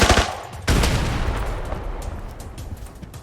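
MP5 submachine gun fire in the Arena Breakout shooter game: two sharp close bursts of rapid shots, the second decaying into a long echoing tail.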